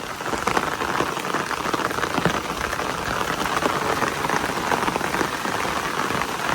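Steady, loud rain falling on a village after an all-night downpour, a dense continuous patter on surfaces with no talking.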